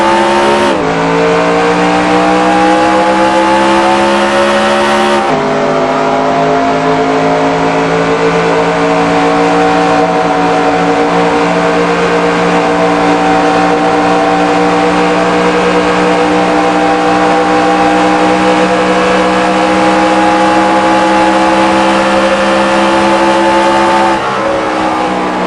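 Loud, continuous race car engine at Homestead Miami Speedway in NASCAR Racing 2003, held at steady high revs with brief shifts in pitch as the car laps under green, no talk over it.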